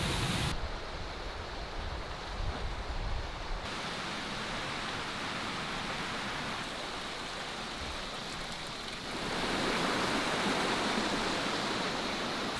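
A waterfall near a mountain path on the fells around Nethermost Pike gives a steady broadband rush of falling water, constant and fairly near, with no voices.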